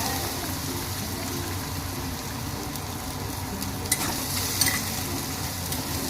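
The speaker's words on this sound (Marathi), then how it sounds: "आता हळद आणि मीठ लावून फ्राय करून घेतो" Squid coated with turmeric and salt fries in a pan with a steady, close sizzle, and a few small pops and crackles rise above it.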